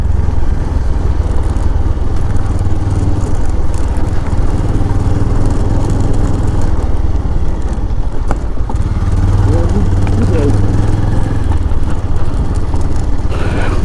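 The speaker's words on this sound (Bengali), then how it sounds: "তিমির আর দিবাকর বাবু তিমিরের বাইকে রাস্তা দেখাচ্ছে।" A motorcycle engine drones steadily and loudly while riding along a rural road, with continuous wind and road rumble.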